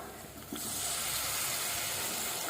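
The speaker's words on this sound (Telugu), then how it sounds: "ఇప్పుడు వాటర్ వేసేస్తున్నాం" Water hits frying brinjal curry masala in a pan, setting off a sudden loud rush of hissing steam and sizzle that holds steady after a quieter start.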